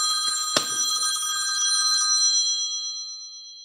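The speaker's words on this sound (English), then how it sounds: "For some reason, my phone just rang." A phone rings indoors with a bright metallic bell tone that starts with a sharp strike and rings on steadily before slowly fading, with no talking.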